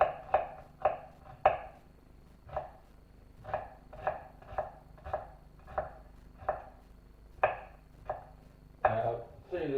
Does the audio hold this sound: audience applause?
no